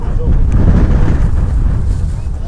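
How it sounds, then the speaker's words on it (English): Strong wind roars steadily across the microphone at an airport viewing park in Manchester, a loud, dense, continuous rumble that buffets without a break. "getting really windy"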